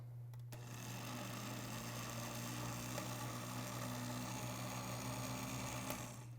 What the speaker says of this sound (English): And we're going to blend, keeping some of that blue cheese out.